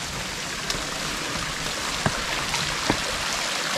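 Steady rain hisses on a hiking trail to Preikestolen, Norway, a dense even wash of drops with running water nearby and a few faint close taps, no voices.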